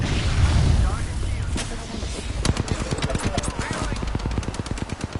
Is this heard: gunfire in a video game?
yes